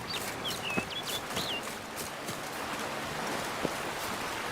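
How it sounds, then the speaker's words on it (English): A bird clucking in The Witcher 3 video game, a few short chirpy clucks close by over a steady rain-like hiss, with soft thumps now and then; no talking. "Come on, you stupid fucking bird."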